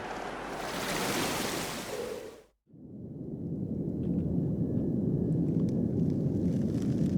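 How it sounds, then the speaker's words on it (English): A waterfall in the video game AER: Memories of Old gives a steady, full rushing roar that cuts out briefly for a moment, then returns as a slightly duller, continuous wash. "Look, you can go through the waterfall."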